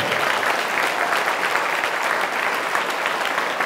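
Students at a motivation session for tenth-class pupils applaud in a large hall, a dense, steady wash of clapping from many hands that holds evenly loud throughout.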